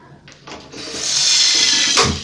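Two cups of water poured into a cooking pan in a home kitchen, heard as a rushing splash that swells over about a second and a half before tapering off.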